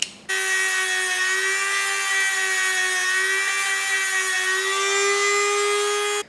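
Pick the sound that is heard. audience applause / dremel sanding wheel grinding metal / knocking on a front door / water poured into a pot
dremel sanding wheel grinding metal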